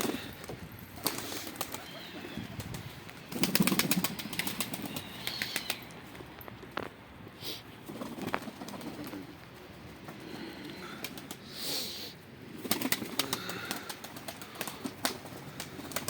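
Bursts of wing flapping from pigeons taking off, with soft cooing and rustling between them; moderately close.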